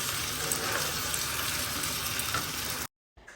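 Masala for chicken tehari sautés in a pan with a dense, even sizzle close up. The sound cuts to silence near the end, then returns faintly.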